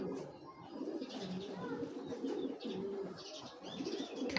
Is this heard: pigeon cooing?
yes